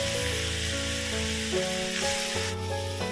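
Giant Mekong catfish stir-fried in a hot pan gives a steady close sizzle throughout, with background music playing over the frying.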